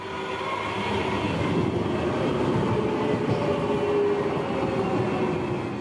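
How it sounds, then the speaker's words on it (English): A Croydon tram rumbles steadily along the rails after leaving a tunnel, with a faint sustained squeal and hiss of brakes running over the continuous low drone. "As the tram emerges from the tunnel, watch and listen as the brakes are applied"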